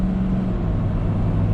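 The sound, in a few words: Ford Super Duty pickup truck accelerating while towing gooseneck trailer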